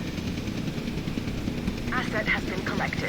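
Helicopters flying in Jurassic World Evolution 2, a continuous whirring rotor drone with warbling tones toward the end, steady and fairly loud under game ambience.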